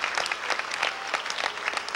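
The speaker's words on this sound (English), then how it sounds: "Give him a round of applause." A small group clapping, brisk overlapping handclaps at moderate volume, steady throughout with no voices.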